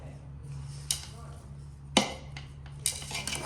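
Utensil scraping and clinking against a pan while methi pak ingredients are mixed, with three sharp metallic knocks over a steady low hum.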